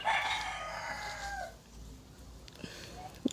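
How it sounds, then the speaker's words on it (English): A rooster crows faintly somewhere in the distance in a Caribbean setting. It comes in brief bursts behind a quiet indoor voice, with small background noises around it. "you will hear roosters and noises in the background"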